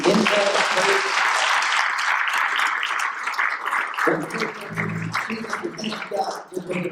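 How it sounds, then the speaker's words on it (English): A church congregation gives a round of applause to welcome a new team member, dense clapping throughout with voices mixed in beneath it. "will you please, by way of round of applause, welcome Amina to the team"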